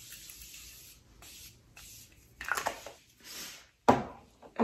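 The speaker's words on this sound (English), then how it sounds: "now I'm gonna use some Morphe setting spray" Several short hissing bursts of makeup setting spray, fairly close and quiet, separated by brief pauses, with a louder burst near the end.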